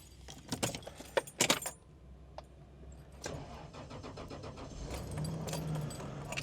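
A factory Toyota key for a 2001 Toyota Hiace V6 camper jangles close by in a few quick bursts, followed by a vehicle engine running at a steady idle. No one speaks.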